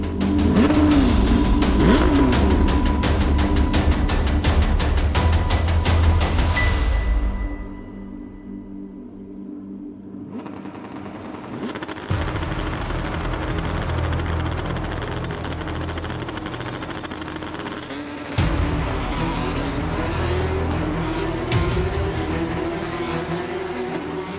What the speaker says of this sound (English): The Porsche engines roar as the drivers leave the pits for the first race of 2019.